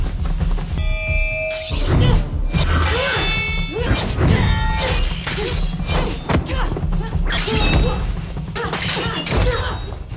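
A hand-to-hand fight in a hitman action film against a highly trained opponent: loud repeated thuds, whacks and crashing smashes land in quick bursts over a low droning soundtrack.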